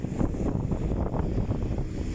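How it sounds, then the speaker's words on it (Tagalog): Strong typhoon wind roars in front of a shopping mall during Typhoon Hanna, a loud, steady gusting rush that buffets the microphone with a low rumble, and no voices are heard. "napakalakas ng hangin guys"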